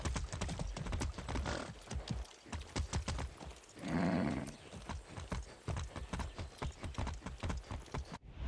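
Steady clip-clop of horse hooves throughout, with a loud whinny rising in the middle, from the video game Far Cry 6; the sound is close and clear, with no talking.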